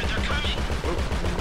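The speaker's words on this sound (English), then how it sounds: "We're shooting." Gunfire erupts during a bank heist in the video game GTA 5 Online as rapid, dense bursts of shots fire over a constant rumble of action, with voices mixed in.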